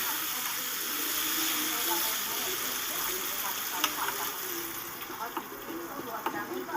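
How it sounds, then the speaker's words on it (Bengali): Yardlong beans fry in oil with salt and turmeric in a pan, giving a soft, continuous sizzle and hiss with a few small spatters and stirring taps near the end, heard up close at low volume. "আমি আরেকটু তেল অ্যাড করে বরবটিগুলোকে ভেজে নিচ্ছি"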